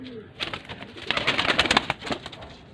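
A breeding pair of Teddy and galwi pigeons in Faisalabad coo in a soft, throaty murmur, with rustling and fluttering close by in a busy loft.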